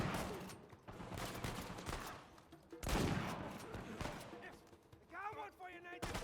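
Bursts of rapid gunfire in Uncharted 4: A Thief's End combat, fairly quiet and mixed under voices talking throughout, with a louder thump midway and some tonal effects near the end.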